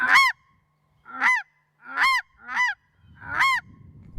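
A series of five loud, scratchy goose-like honks in an uneven rhythm, made with a Sean Mann call imitating a snow goose, with wind noise under the last one.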